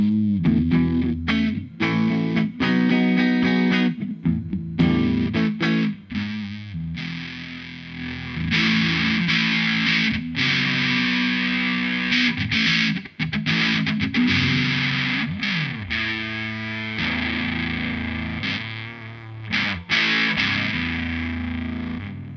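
Bass guitar through an Animal Factory Amplification pedal, pushed into distortion, plays a continuous gritty riff with sustained growling notes and quick breaks, loud and steady throughout, with no voices over it.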